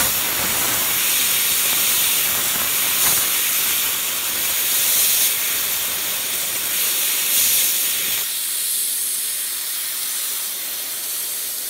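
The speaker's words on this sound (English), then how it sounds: "Time for a nice hot steam bath." Steady loud hiss of hot steam jetting onto an Epson WP-4540 print head to clear its clogged nozzles, a continuous spray that drops off somewhat near the end.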